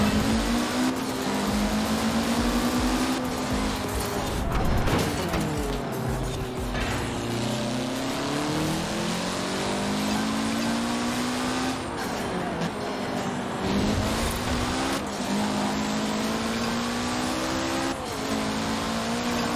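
Car engine in the racing game Forza Horizon 4 revving hard through a drift, with sustained whining tones that rise and fall repeatedly, loud and continuous, with occasional tire squeal and no talk over it.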